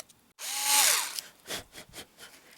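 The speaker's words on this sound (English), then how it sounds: "I want to drill right down through the center there" A power drill bores down through the center of a cast faux chocolate made from Cool2Cast, giving a single loud whirring burst of about a second, followed by a few short scraping bursts.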